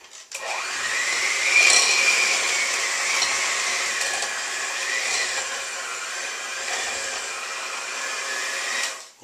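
Electric mixer with beaters struggling through thick oatmeal chocolate cookie batter, a continuous close motor whine that dips and strains in pitch as the load increases, running alone for the whole stretch.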